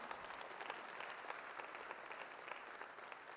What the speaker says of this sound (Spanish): Se va a aplaudir de gloria al Señor.